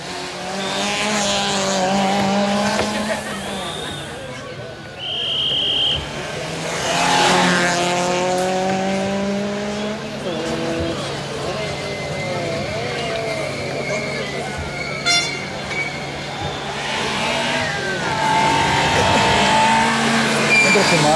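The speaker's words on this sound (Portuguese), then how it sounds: "Vamos continuar a acompanhar os carros desde o terreiro da luta." Rally cars race along a stage of the Rali Vinho Madeira with revving, shifting engines that rise and fall as they pass, under steady commentary and crowd noise.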